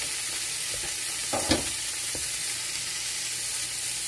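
Beef is stirred in a hot frying pan at home, with a steady close sizzle and a few soft scrapes of the spatula, one slightly sharper clack near the middle.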